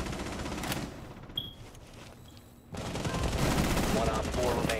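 Gunfire rattles in a Rainbow Six Siege match: a burst of rapid shots, a quieter lull with faint game effects, then a louder dense stretch of firing and impacts, with some voices under the action.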